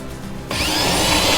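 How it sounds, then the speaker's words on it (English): A drill gun boring a hole while building a shelf above a garage door, starting abruptly after a moment of quiet and running at a steady, loud whine close by. "and drill a hole."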